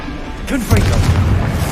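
A Confringo explosive spell from Hogwarts Legacy going off: a short rising whoosh, then a loud booming burst that rumbles on, with a voice heard just before the blast.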